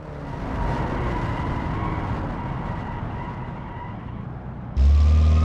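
Tyre squeal and skidding from a 1986 family sedan braking with anti-lock brakes in the BeamNG driving game, with a steady engine drone throughout, loud and close, and no talk.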